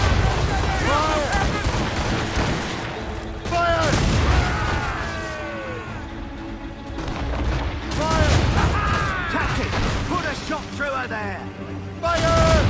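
Heavy cannon broadsides boom repeatedly during a naval battle aboard a sailing warship in Assassin's Creed Rogue, with shouted commands and crew voices over the gunfire.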